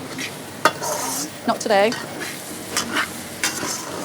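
Garlic, ginger, shallot and chilli frying in hot oil, which spits and crackles steadily while a utensil stirs and scrapes; a short spoken remark sits in the middle.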